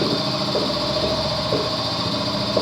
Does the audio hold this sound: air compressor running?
yes